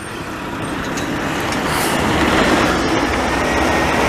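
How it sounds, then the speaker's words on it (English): A truck rolls past on a Montreal street in the Mile End district, a steady loud rumble of engine and tyre noise that swells gradually as it draws closer. "I'm looking at this truck over here coming"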